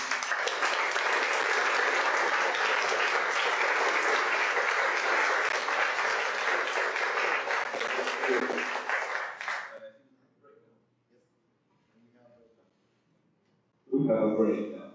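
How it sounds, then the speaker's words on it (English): A conference audience in Mar del Plata applauds loudly and steadily for about ten seconds, then the clapping fades out, followed by a brief burst of noise near the end. "Let's say hi with a big applause to this guy."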